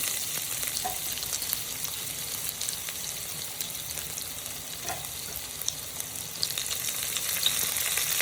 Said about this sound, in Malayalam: ലിവർ കറിക്കുള്ള എണ്ണ ചൂടായിട്ടുണ്ട്. വീണ്ടും നമ്മൾ ഇഞ്ചി ഇടുന്നുണ്ട്